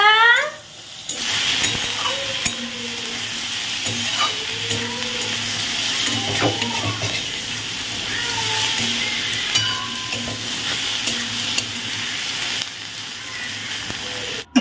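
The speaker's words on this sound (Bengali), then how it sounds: "এদিকে কিন্তু মাছ ভাজা চলছে" Fish sizzles and spits in a frying pan, a continuous close crackle with scattered clinks and faint household sounds in the background.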